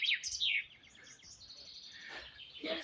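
Birds sing by a river in spring flood near Davyd-Haradok on the Horyn, with bright overlapping chirps and trilling phrases, fairly close and clear, with no talking.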